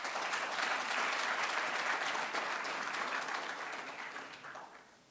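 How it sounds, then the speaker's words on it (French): An award ceremony audience breaks into warm applause, many hands clapping in a dense, even roar that gradually tapers off over several seconds. "Merci de l'applaudir."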